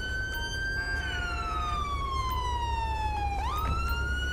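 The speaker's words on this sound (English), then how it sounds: "Why these guys stop right here with their siren on" A police car siren in GTA 5 wails near and loud, one long tone sliding down in pitch before jumping back up, over a low idling rumble.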